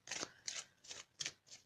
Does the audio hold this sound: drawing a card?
yes